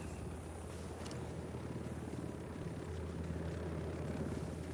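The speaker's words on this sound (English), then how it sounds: "Chopper's approaching." Helicopter rotor and engine drone in the video game Ghost Recon Wildlands, a steady low rumble with faint chopping, holding at a constant level throughout with no talk.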